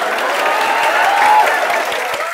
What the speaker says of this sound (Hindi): ताली बजा दो छोरी के लिए